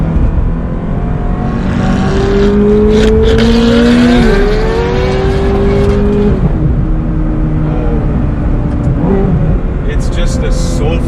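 A straight-piped Ferrari F430 Spider V8 revs hard and close, rising and falling in loud sweeping pitches as it accelerates through gears, with a harsh raw exhaust roar filling the whole stretch.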